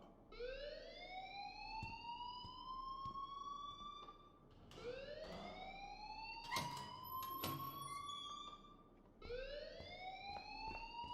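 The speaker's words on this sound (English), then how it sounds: "please turn off that alarm since that's your job." An alarm rings in the video game Life is Strange: loud rising electronic wails repeat about every four seconds, with a few sharp clicks and tones between them and no voices.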